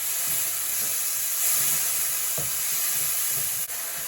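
Mushrooms stir-frying in a pan for a jerk mushroom bulgur stir fry, a steady close sizzle and hiss with a few soft stirring scrapes, no voices.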